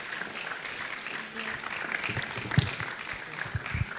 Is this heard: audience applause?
yes